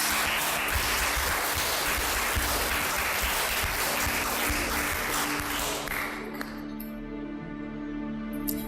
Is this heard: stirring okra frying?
no